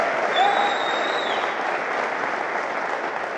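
An audience at a talk claps together in a steady, even wash of applause, fairly close and holding for several seconds, with faint tonal whistles over it.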